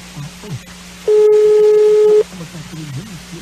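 A steady telephone tone sounds on a dropped prank phone call, one loud unbroken tone of about a second between stretches of talking voices.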